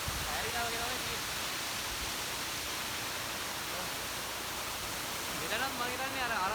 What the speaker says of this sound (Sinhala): මෙතන ආවම අපිට තවත් දියල්ලක් තමයි හම්බෙන්නේ